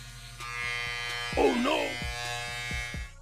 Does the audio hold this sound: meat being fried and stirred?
no